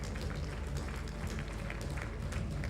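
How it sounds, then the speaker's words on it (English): Audience applause at a renewable energy conference award ceremony, a steady dense wash of clapping for the winning rice mill and maize huller company, filling the whole moment at moderate loudness with no voice over it. "Let's clap for them."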